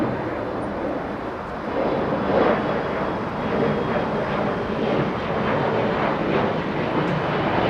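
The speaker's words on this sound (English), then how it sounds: "Now we go to Turkish 179, a 777. Taxiing on Bravo" A Turkish Airlines Boeing 777 taxiing on a taxiway at Los Angeles International Airport, a steady low rumble and engine whine heard from a distance, continuous and even.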